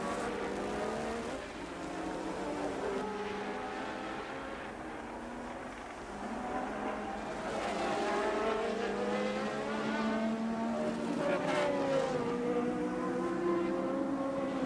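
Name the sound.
1982 Formula 1 cars racing, Renaults and Ferraris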